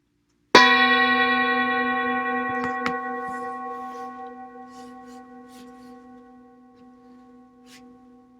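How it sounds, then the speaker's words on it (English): A single church-style bell is struck once at the start of a chant, ringing out clear and near, then decaying slowly over several seconds into a long, fading hum. "So I'm going to ring the bell"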